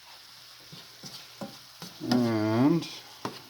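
Food being stirred in a frying pan after pepper and salt go in, with a soft scrape and sizzle, a few light utensil taps, and a brief spoken word at the start.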